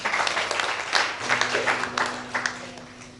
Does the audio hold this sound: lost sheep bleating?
no